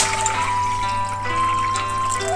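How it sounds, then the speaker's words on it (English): Tap water runs into a cooking pan for Japanese miso soup, a steady close trickle and splash lasting a couple of seconds with a low hum beneath and no talking. "First, fill the pan with water."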